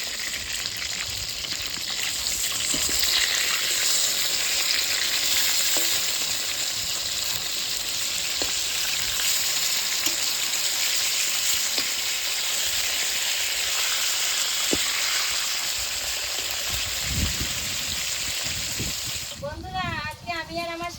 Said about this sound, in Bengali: আমি এইদিকে মাছটা ভেজে নিচ্ছি